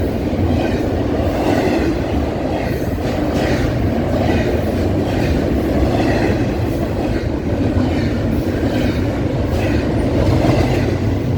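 Eastbound light power move of freight locomotives passing close by on a rail line at Fullerton, a steady loud rumble with rhythmic wheel clatter over the rail joints throughout, no voices.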